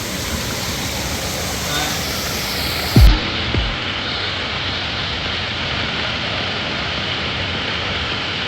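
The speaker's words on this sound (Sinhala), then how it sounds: "මෙතන චූටි තියැල්ලක් තියෙනවා" A small waterfall among rocks gives a steady, close rush of flowing water throughout, broken once by a short thump.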